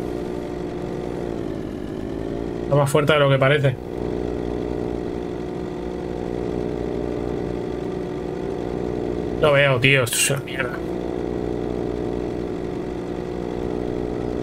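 A motorcycle engine idles steadily in a zombie survival video game at night, a constant mid-pitched drone running under lively conversation between two players.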